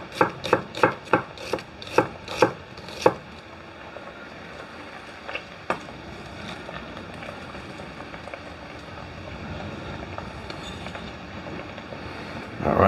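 A Vidalia onion being chopped for an Italian vegetable stew, with about a dozen quick, crisp knife strikes on a board in a steady rhythm, then a stray chop or two before a quieter, soft background hiss.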